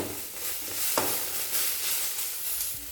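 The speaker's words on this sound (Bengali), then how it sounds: "টমেটো কুচি দিয়ে দেব, তেলের মধ্যে নাড়াচাড়া করে নেব।" Chopped tomato stirred into sizzling oil with spice powder in a pan, a steady frying hiss broken by a couple of sharp scraping stirs, close and fairly loud, no talking.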